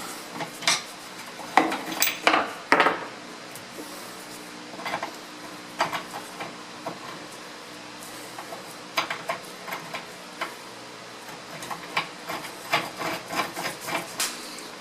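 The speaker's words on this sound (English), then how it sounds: "I'm going to tap it a little bit more because I want to see this brass stick out on the inside" Sharp metallic ticks and clinks of a tap cutting threads into a hole in an oil pan for a brass pipe fitting on a Suburban, in uneven clusters of light taps and scrapes, close, with no talk.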